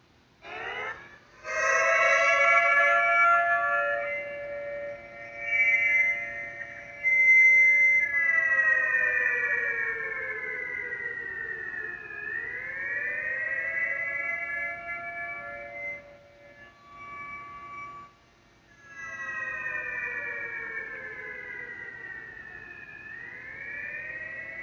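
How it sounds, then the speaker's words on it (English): Air raid siren in the Rec Room video game: a loud, wailing tone that rises and falls in long sweeps, cutting out briefly and restarting several times, heard alone with no talk. "press the air raid siren."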